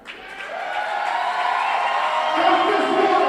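Wrestling fans at a tag team championship match break into cheering and applause that swells and holds steady, a crowd roar filling the arena.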